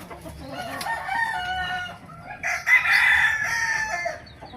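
A rooster crows loudly and close by in a backyard, one long strained call rising over a background of clucking hens and scattered farmyard bird noise.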